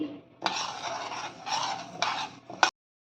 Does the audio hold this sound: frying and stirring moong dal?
yes